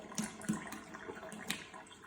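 Soaked gluten-free bread squeezed by hand, releasing water in soft, faint drips and trickles into a bowl, close and quiet with no talking.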